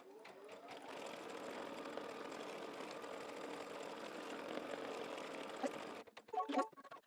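A home embroidery machine stitches a tack-down pass through batting on an in-the-hoop mug rug, a steady rapid mechanical whir for several seconds that stops, followed by a few clicks and a clunk.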